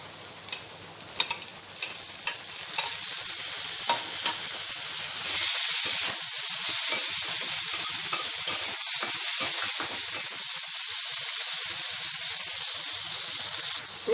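Onion and tomato pieces fry in a pan with a continuous crackling sizzle that swells into a louder, denser hiss partway through, then holds steady.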